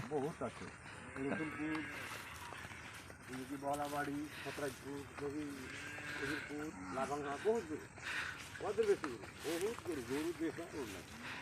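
A large herd of cattle on a river char of the Padma near the India–Bangladesh border lows now and then amid steady outdoor noise, with people talking throughout.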